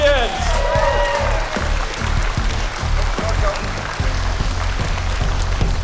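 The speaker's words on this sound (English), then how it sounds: "Let's give a big round of applause to the off-road champions." Crowd applause for off-road champions at a school electric-vehicle competition, loud and steady across the whole stretch, with announcer talk and other crowd noise mixed in.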